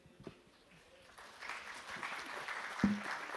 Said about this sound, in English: Thank you for all the clapping.